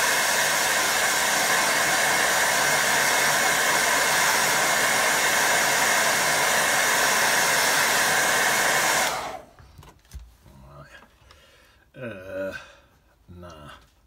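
A hair dryer blows steadily and loudly to dry a watercolour painting of a windmill, then cuts off abruptly, leaving quieter rustling and brief talk.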